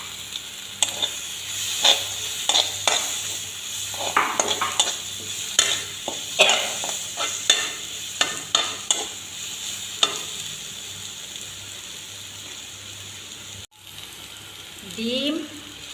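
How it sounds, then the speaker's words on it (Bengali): Fried eggplant stirred into spices in a pan: a close series of sharp scraping and clacking strokes over a soft sizzle, irregular at first, then pausing, with one brief break and a faint sound near the end. "বেগুন ভাজা দিয়ে দিচ্ছি মশলার মধ্যে।"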